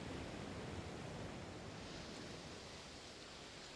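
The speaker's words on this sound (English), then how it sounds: "Alright, I can hear the water." Continuous water ambience from The Last of Us Part 2 Remastered on PC, a dense, even rushing hiss like a stream or waves, holding level throughout with no talking.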